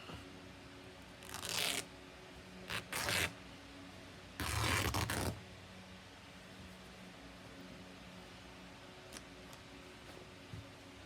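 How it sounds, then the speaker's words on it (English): Fabric being torn by hand for a sewn pouch, heard as three close, harsh ripping bursts, the longest near the middle, separated by quiet pauses in a still room. "now on this side, I've got too much fabric. I'm going to cut it and tear it."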